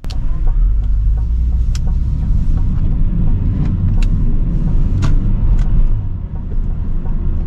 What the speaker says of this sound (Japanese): さあしっかりアクセル踏んでいくぞ。